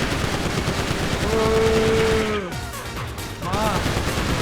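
Rapid automatic gunfire in GTA V, a dense rattling stream of shots under shouted talk, with a rising and falling whine cutting through near the middle.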